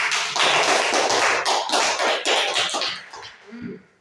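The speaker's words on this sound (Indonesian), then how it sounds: "Mari kita berikan aplaus." Classroom applause for the first student group, a quick burst of clapping by many hands that tapers off toward the end, with no talking over it.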